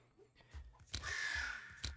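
A crow caw plays as the card sound for the Familiar in the Dominion Digital video game. The short, faint, rasping call sounds twice, close together.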